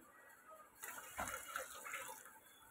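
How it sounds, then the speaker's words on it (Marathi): Water pours into a cooking pot of fried onion while making coriander rice, a soft rushing gush that starts partway in and runs steadily to the end, close by with no talk. "आता आपण ह्याच्यात पाणी टाकूया."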